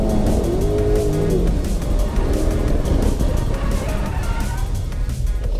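Two cars drift in tandem, engines roaring loud and close with shifting revs and tire squeal, while voices come through faintly under the noise.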